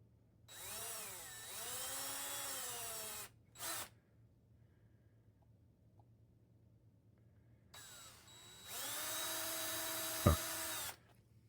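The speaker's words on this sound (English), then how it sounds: "I'm going to drill this first in 1/8, and then I'm going to use my 3/16 drill bit next." A power drill with an 1/8-inch bit whines loudly in two bursts, its pitch bending as it bites into metal over scrap wood, with a short blip between and a sharp crack near the end.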